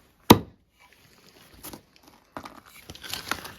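An Adler Yankee hatchet strikes wood while carving coarse feathers: one sharp, close chop, then a quiet pause and a run of scraping, shaving strokes that grow busier toward the end.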